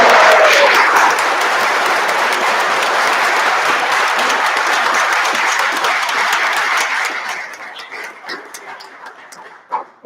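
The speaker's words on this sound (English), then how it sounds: "So one more big healthy round of applause for this beautiful production." Loud, sustained audience applause fills a theater after a production of Macbeth, steady for several seconds before thinning into scattered claps.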